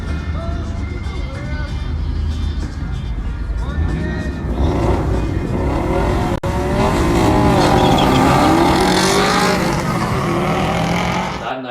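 A stage 2 Subaru STI running E85 fuel launches hard down a drag strip, its engine loud and continuous for the whole stretch, rising in pitch as it pulls through the run, with a sharp cut-off midway and crowd or talk mixed underneath.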